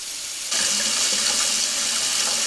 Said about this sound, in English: So I'm going to turn on the water and get it as hot as my little hands can